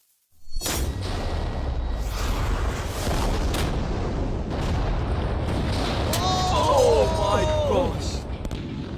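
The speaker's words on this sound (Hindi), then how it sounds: "तेज धमाका था" A loud, sustained roaring blast with heavy rumbling low end, like a video game explosion, with voices talking over it and whooshing sweeps near the end.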